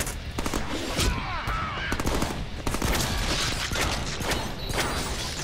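Shotgun blasts in the Deadpool video game, a dense run of sharp repeated bangs with mechanical clacks between them, loud and continuous over a busy game mix.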